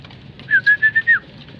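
A pigeon gives a short cooing call, a soft pulsing run of about five notes, close by against a quiet background.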